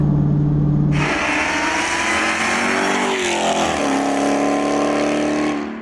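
Roaring 2015 Dodge Charger Hellcat supercharged engine and intake, loud and close, with a steady strong drone that climbs and shifts pitch as the car accelerates, no talk over it.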